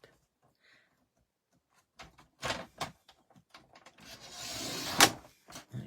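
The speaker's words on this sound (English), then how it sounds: "So you're going to bring your trimmer in. And let's trim, say, a 5 centimetre strip." A paper trimmer slices a 5 cm strip from a sheet of card. Quiet clicks and handling come first, then a short sliding cut builds to a sharp snap near the end, all close and alone.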